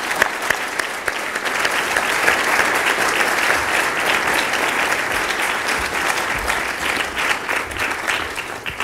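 A banquet-hall audience at a liberal arts college alumni medallion dinner gives award recipients a sustained round of applause, dense steady clapping from many hands lasting about nine seconds without a break.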